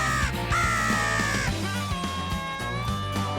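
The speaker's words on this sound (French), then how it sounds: "tandis que les corneilles s'activent peu à peu." Crows cawing during a crow hunt in Lanaudière, Québec, with several loud, repeated caws close by over a steady background.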